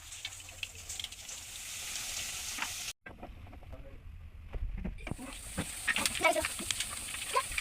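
Batter for laddu is poured drop by drop into boiling oil, which gives a low, close bubbling sizzle broken by a brief dropout. The frying then swells again with crackling, and faint voices are audible in the background.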